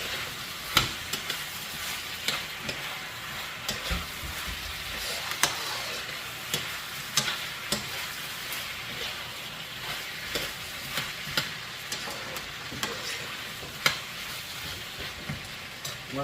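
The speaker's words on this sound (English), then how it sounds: "it's doing that fry up to get that nice rich curry flavor" Diced potato frying in curry oil for a Jamaican shrimp curry, a steady soft sizzle with scattered clicks of stirring spread through, moderately quiet and without talk.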